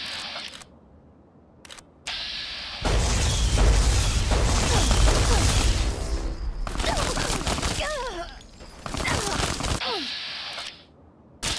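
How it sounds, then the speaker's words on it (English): Tesla cannon firing in Fallout: Tale of Two Wastelands, a few sharp clicks followed by a loud crackling electric blast that roars for several seconds, then zapping and sizzling bursts that trail off. "Time to break out the Tesla cannon and hopefully not die."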